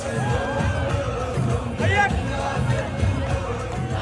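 A crowd of Syrian residents celebrates the president's fall. Many voices blend into a dense outdoor roar with scattered cheers, whoops and shouted chants, loud and continuous throughout.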